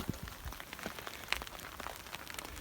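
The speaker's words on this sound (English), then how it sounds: "We are getting rained on, so I'm putting the camera away." Light rain pattering on a hiking trail in the White Mountains of New Hampshire, a soft steady spray of scattered drops with occasional sharper taps, fairly quiet throughout.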